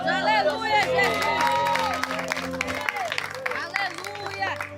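A church congregation breaking into loud applause and cheering during a service, with dense clapping and scattered whoops under a voice and an organ or keyboard sustaining chords in the background.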